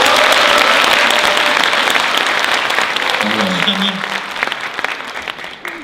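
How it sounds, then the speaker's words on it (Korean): Applause from a seated audience at a political talk concert, a dense steady clatter of many hands clapping that fills the room and slowly thins toward the end, with a voice briefly audible underneath. "격려의 박수 한번 드립니다"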